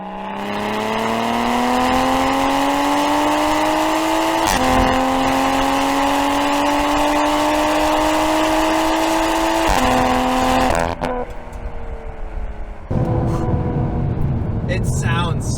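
A rebuilt Toyota GR Supra engine revs hard through a pull, its pitch climbing steadily through several gear changes marked by brief dips, loud and close before easing off near the end.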